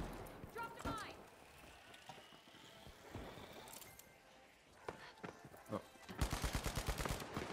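FAMAS fire in The Finals, sharp shots and rapid bursts at mid distance, ending in a loud close volley, with movement and mechanical noises and a player talking throughout.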